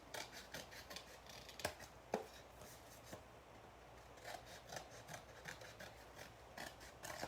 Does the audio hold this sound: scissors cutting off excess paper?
yes